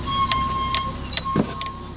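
A car creeping through a narrow main lane of a village past a parked vehicle, its engine a steady low rumble close by with a few brief squeaks and knocks over it.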